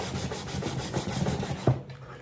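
Rhythmic rubbing strokes of sandpaper on a wooden mbira soundboard, close and fairly soft, ending with a light knock before going quiet.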